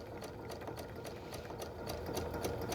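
A domestic sewing machine stitches an invisible appliqué at slow speed, a close, even whirring hum with a rapid mechanical ticking rhythm throughout and no speech.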